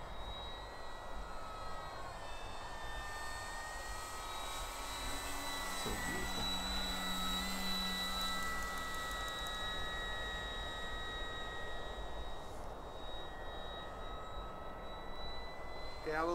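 A TopRc Thunder RC airplane flies with its stabilizer on, its faint, steady jet-like whine holding for the whole stretch with small shifts in pitch as it passes at a distance.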